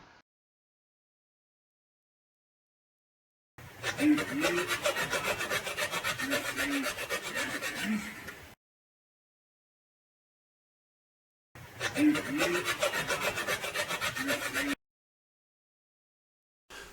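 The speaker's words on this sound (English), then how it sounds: "These burrs are quite easy to remove, and I do this using a round file." Round file rasping burrs off freshly sawn brass at a workbench, heard as two close bursts of steady scratchy strokes, each lasting several seconds, separated by silence.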